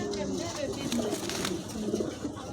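A pigeon coos in soft repeated low phrases across the clip, close by, with a voice talking over it.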